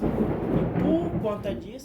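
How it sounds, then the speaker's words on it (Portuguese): Heavy rain roars steadily in the background while a person speaks over it. "Tá dando uma chuvinha forte"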